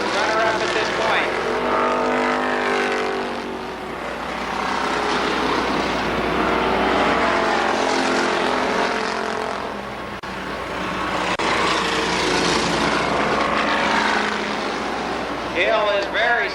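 Stock cars race at Columbus Motor Speedway, a roaring pack of engines that swells and fades as cars sweep past, with a loud announcer talking over the din the whole time.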